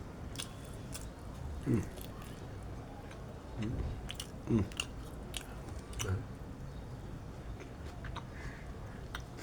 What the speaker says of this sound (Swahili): Hapa nakula. Tena sio kula, na kula vizuri.